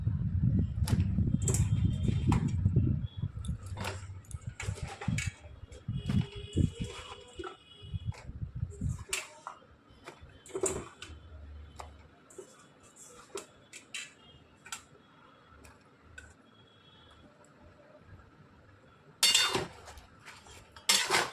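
Sliced potato and pointed gourd tip into a pan with a loud clattering burst, then scrape and clink softly under a stirring utensil, with a final sharp clatter near the end.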